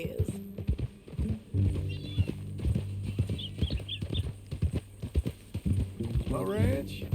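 Horse hooves clip-clop steadily in Red Dead Redemption 2 as riders travel, with a brief whinny near the end and characters conversing over the rhythmic footfalls.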